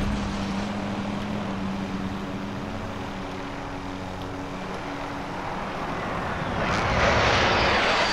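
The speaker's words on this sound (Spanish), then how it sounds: "Agarré el helicóptero" A helicopter in the video game Call of Duty: Modern Warfare gives a steady, loud engine and rotor drone that swells slightly near the end, with no voices over it.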